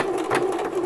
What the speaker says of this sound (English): So I'm going to do a back stitch and then